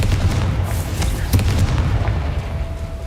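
A Confringo fire spell explodes in the video game Hogwarts Legacy with a heavy boom and a sharp burst near the middle, set against a rumbling game soundscape with no speech.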